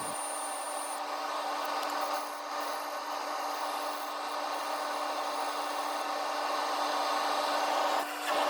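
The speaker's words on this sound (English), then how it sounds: "Combination of power sanding and hand sanding." A padauk and resin woodturning piece is sanded on the lathe with a continuous even rasping hiss and a steady motor hum, close and unbroken throughout.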